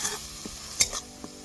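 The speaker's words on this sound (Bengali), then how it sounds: "মশলা আমার কষানো হয়ে গেছে, এবার আমি চিকেন দিয়ে দেবো" Spice masala with dried chilli powder and bay leaves sautés in oil for Beg Moti chicken, a soft close sizzle with a couple of quick stirring scrapes and small clicks, brief and fairly quiet.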